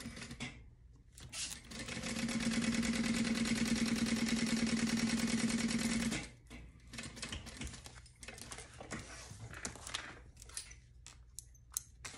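A sewing machine stitching a center seam on a crossbody bag, a steady rapid whir for about four seconds, with quieter handling noises and fabric shuffling before and after.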